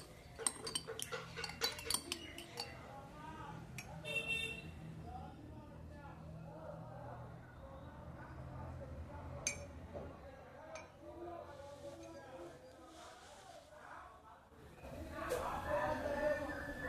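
Spoon clinking against a cup of tea with ghee, several light metallic chinks early on and a few scattered later, set among kitchen clatter with a voice talking throughout.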